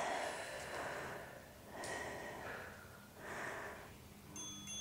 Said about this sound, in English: Slow down your breath.